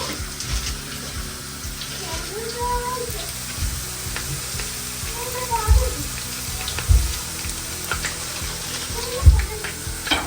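Ginger and garlic sautéing in a pan, a continuous bright sizzle with occasional low thumps and clatters of stirring, close and fairly loud throughout.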